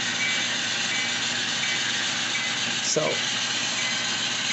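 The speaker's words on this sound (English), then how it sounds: "all of my engines will have ESU lock sound decoders" Steady low idle of a Scale Trains SD39 model diesel locomotive played through an ESU sound decoder, a continuous even drone with a brief click near the end, heard alone.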